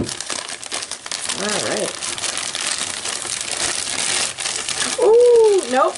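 Plastic or paper packaging crinkling and rustling as a mailed package holding a pillow is opened, steady close crumpling throughout with a brief spoken remark and a couple of short voiced sounds.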